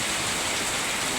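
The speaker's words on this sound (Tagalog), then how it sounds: "Lakas ng ulan." Heavy rain pouring down in Bacoor, Cavite, a dense, even hiss of falling water filling the air without a break, with no voices.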